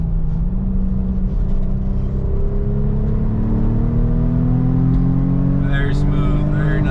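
An Audi S4 engine idles steadily and smoothly after its coil packs and spark plugs were replaced, giving a continuous close low hum with slowly rising tones, and a voice talks over it throughout.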